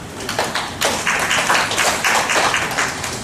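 An audience at a lecture applauds a university professor, a dense steady burst of many hands clapping close and loud for a few seconds with no talking over it.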